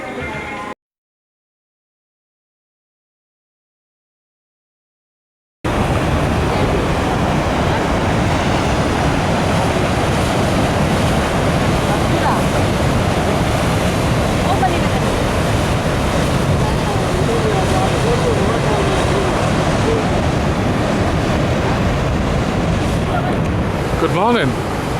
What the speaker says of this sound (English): Welcome to Niagara Falls.